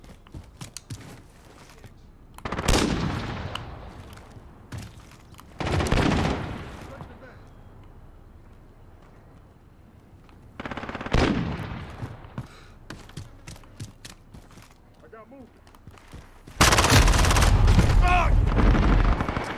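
SMG gunfire in Call of Duty Modern Warfare multiplayer near cargo containers, several loud separate bursts of rapid automatic fire with quieter game ambience between them and a heavier final volley.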